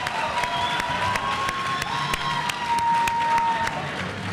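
A boxing crowd at an All Star Boxing event cheers and applauds steadily throughout, a dense, loud roar of clapping and shouting with sharp individual claps standing out and no pause.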